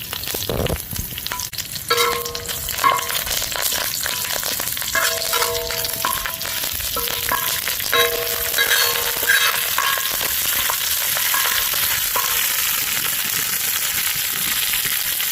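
Pomfret fish fries in hot oil for a fish fry masala, a loud, steady close sizzle with bubbling and crackling throughout and occasional stirring clinks.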